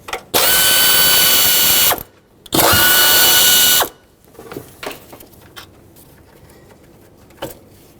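A ratchet or power driver whirs in two loud, sustained bursts while a solenoid is unbolted on a 2011-2016 Ford F-350 6.2L V8 engine, followed by quieter clicks and light handling of parts.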